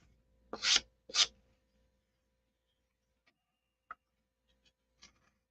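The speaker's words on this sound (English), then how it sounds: "so I'll sand out with a T-bar." Two short rasping strokes of a T-bar sanding block on a balsa model aircraft wing, near and fairly loud, followed by a quiet pause with a few faint taps and clicks.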